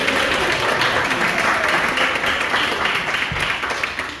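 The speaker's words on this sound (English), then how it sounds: "Round of applause for Bert, everybody." Theater crowd at a math-themed magic monologue show applauds a volunteer from the audience, a full, even wash of clapping that holds steady and tapers slightly at the end.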